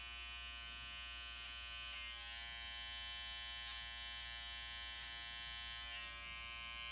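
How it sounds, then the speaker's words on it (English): Electric hair clipper buzzing steadily and close up while its back edge trims a few stray hairs in front of the ear during a classic side part haircut, a constant hum with no pauses. "we're going to take the back end of the clipper"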